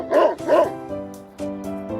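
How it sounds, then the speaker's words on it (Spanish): Dog barking loudly and close, two quick sharp yips followed by a pair of longer whining bow-wow barks. "El perro."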